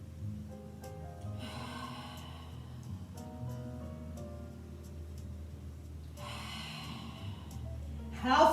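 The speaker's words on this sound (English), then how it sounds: "now we're going to start breathing in and out" Slow, deep breaths during a mat Pilates class: two long airy inhales or exhales, several seconds apart, near and audible over a faint hum, with a soft gasp at the end.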